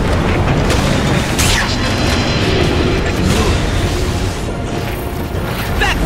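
Loud, dense rumbling booms and bursting crashes as barracks are destroyed in the video game Dota 2, a continuous battle roar without pauses.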